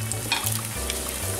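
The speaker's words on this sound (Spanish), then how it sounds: "ahora las vamos a ir poniendo en el aceite y las vamos a ir friendo" Breaded chicken fillets fry in hot oil with a steady, close crackling sizzle, a dense hiss broken by small pops and a faint low hum underneath, with no talking.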